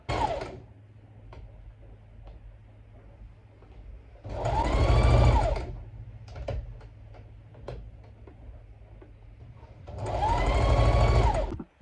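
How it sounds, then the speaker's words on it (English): Sewing machine stitching fabric for a Christmas bow, two loud whirring bursts of rapid stitching separated by a quiet humming pause with faint clicks, close and alone with no talk. "So I'm just going to sew around but leave like a hole in the center here so that it can be flipped inside out"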